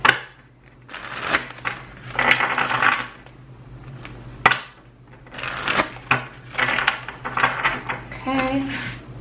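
Tarot and oracle cards being shuffled by hand, a soft papery riffling and slapping in uneven bursts close to the microphone, with quiet gaps between rounds and no speech over it.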